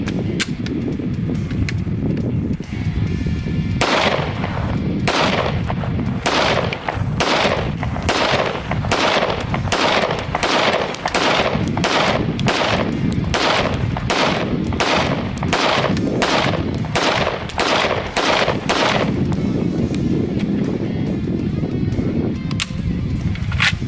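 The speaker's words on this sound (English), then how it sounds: "Now I want to shoot the FN so I can get a good comparison between the two." An FN 5.7 pistol fires in the open desert, about twenty sharp, loud shots at a fairly even pace, with quieter stretches before and after.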